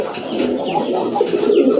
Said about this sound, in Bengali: অ্যাকচুয়ালি খুবই চমৎকার একটা কবুতর, মাদি কবুতর ভাই।